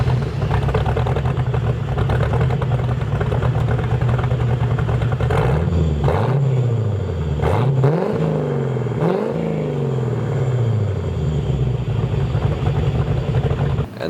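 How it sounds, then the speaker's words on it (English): A car exhaust with no baffles fitted roars loudly throughout, a constant deep rumble with several quick revs rising and falling near the middle, close and with no talk. "This is the exhaust sound in startup with no baffles."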